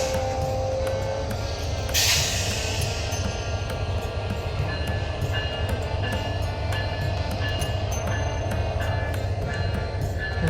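A Sonar Bangla Express train rumbles past steadily with a continuous loud rolling roar and rhythmic wheel clatter, heard from inside a stopped train on the Chittagong–Dhaka line, with a brief hiss near the start.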